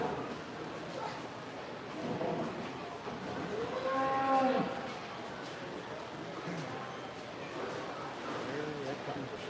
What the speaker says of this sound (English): There comes the Shorthorn cow.